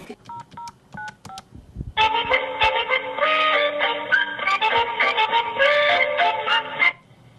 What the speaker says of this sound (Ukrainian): замовляє казку по телефону